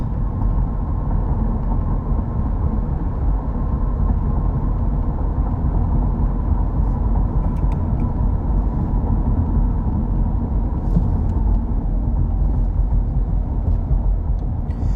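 A 2019 Ford Fusion drives along with a steady, loud low road and engine rumble and constant tire noise throughout, with no talking.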